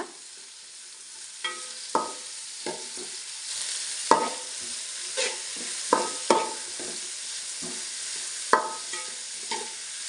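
Chopped onions sautéing in a curry pan, a steady close sizzle broken by a dozen or so scraping stirs at uneven intervals, with no talking.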